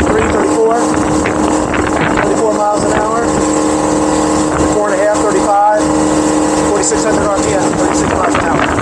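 Mercruiser MPI boat engine at cruise speed around 4,500 RPM, a loud steady drone with wind rush and water noise throughout, with people talking over it.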